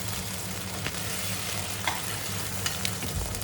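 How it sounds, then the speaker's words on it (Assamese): Chicken pieces frying in a non-stick wok on a home stove, a steady close sizzle with occasional faint utensil taps, no voices. "মই ৰঙচুৱা হোৱালৈকে অকণমান দেৰি ফ্ৰাই কৰিম"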